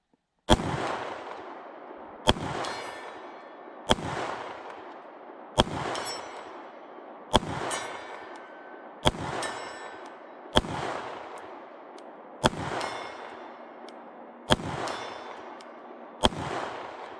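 Ten evenly spaced gunshots from an H&K VP9 pistol fired outdoors at targets 70 yards away, each a sharp loud crack with a long ringing tail, about every 1.8 seconds and with no talking.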